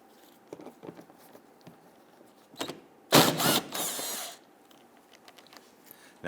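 A 10mm bumper bolt comes out of a 2008-2013 Infiniti G37 under a power tool, giving a brief whir burst that leads into a longer steady ratchet-like buzz. Lighter clicks and taps of handling come before and after it.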